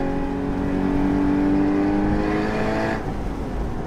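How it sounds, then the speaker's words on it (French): A Porsche Boxster Spyder 981 engine pulls hard under acceleration, a loud, steady tonal drone that rises through the revs before a brief lift-off near the end, heard close from inside the car with no talking. "Et le moteur, je peux vous dire qu'il envoie."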